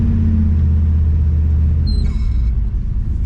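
A 1966 Ford Fairlane with a 390FE V8 and four-speed manual runs steadily, its deep low engine rumble close and continuous, with a brief higher whine partway through and no talk.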